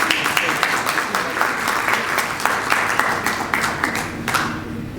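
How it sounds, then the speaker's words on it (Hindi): A church congregation applauds Reverend Pastor Emmanuel with loud, steady clapping from many people that continues evenly, then drops off abruptly near the end. "रेवरेंड पादरी इमैनुअल के लिए भरपूर तालियां होनी चाहिए"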